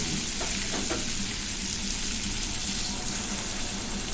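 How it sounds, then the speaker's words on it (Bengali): Spice paste with fried potato and elephant foot yam sautéing over medium heat for a fish curry, a steady, even sizzle with faint stirring clinks, with no talking. "একদম মিডিয়াম আঁচে মশলাটাকে আমি কষিয়ে নেব।"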